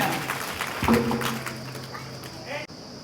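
An audience at an inauguration event breaks into scattered clapping while someone speaks over it through a microphone.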